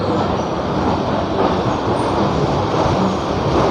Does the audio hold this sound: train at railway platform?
yes